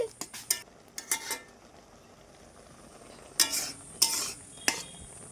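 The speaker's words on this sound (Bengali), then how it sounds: "নেড়ে চেড়ে মিশিয়ে নিচ্ছি" Raw mango pickle with red chilli powder being stirred in a pan, heard as a few short clusters of scraping spoon strokes with quiet pauses between them and no talking.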